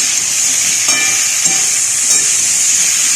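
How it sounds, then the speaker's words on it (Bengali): Vegetables with eggplant frying together in oil in a pan, giving a steady, loud, even sizzle with a few faint clinks of stirring and no voices. "আমি মোটামুটি সব সবজিগুলো ভালোভাবে ভেজে নেওয়ার পর বেগুনটা দিলাম"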